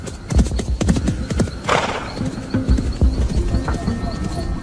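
A horse's hooves clip-clop in a quick, close rhythm, broken by a loud neigh partway through, with faint bird chirps in the background.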